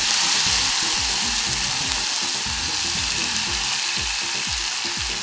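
Tomato goes into a hot pan of cumin that has darkened to brown, setting off a loud, steady sizzle with frying crackle that continues throughout, with no talking.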